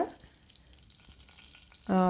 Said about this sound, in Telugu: ఇప్పుడు నూనె కాగిన తర్వాత పోపు దినుసులు వేసుకోవాలి ముందుగాని ఇవి చిటపటమన్నాక